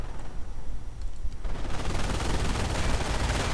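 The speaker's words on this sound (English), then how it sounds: "Troops are moving in. They are suffering heavy fire." Heavy gunfire on troops in a real-time strategy game, starting as a low crackle and swelling into a dense, continuous roar of rattling shots and blasts.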